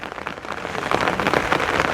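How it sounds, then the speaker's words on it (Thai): Steady rain falls nearby, pattering densely on surfaces with a constant wash of drops that swells slightly toward the end. "โอ้โหฝนตก"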